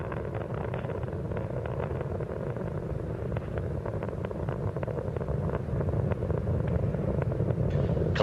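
Space Shuttle Columbia's three liquid-fuel main engines roar during launch from Kennedy Space Center, a distant, steady low rumble heard through wind-buffeted air without talk.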